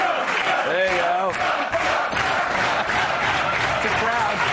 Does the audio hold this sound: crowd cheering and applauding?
yes